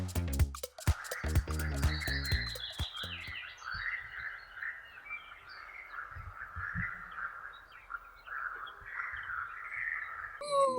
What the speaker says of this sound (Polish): Mamy słychać żaby.